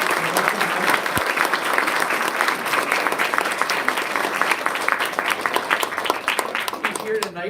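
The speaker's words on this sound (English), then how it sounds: "Let's give a big round of applause." Loud, dense applause from an evening audience welcoming an author and illustrator at a drawing demonstration, steady crackling claps filling the room throughout with no pause.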